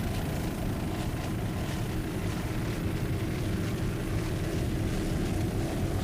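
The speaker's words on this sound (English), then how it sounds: "36-foot fountain with Mitch Miller and Matt Rice, Mercury powered, two 500 horsepower Mercury inboards" A 36-foot Fountain racing boat powered by two 500 horsepower Mercury inboard engines roars steadily and loudly throughout, a constant dense engine drone with no pauses.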